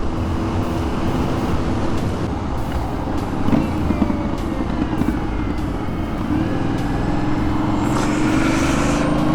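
An Aprilia Shiver 900 motorcycle pulls away from a stop on an open road, its engine loud and close under heavy wind and road rush, the pitch climbing steadily toward the end as it gathers speed.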